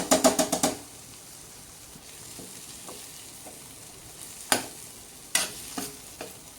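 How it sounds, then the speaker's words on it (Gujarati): Tomatoes and spices roast in a pan over low gas, a quiet continuous sizzle punctuated by a quick run of spoon taps at the start and a few sharp scraping knocks later, with no voices. "આપણે ટામેટાં નાખ્યા પછી મીડિયમથી લો જ ગેસ રાખવાનો છે અને આવી રીતે જ આપણા બધા મસાલા બરાબર શેકી લેવાના છે"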